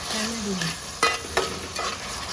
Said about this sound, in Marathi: मस्त कांद्याला परतून घेऊया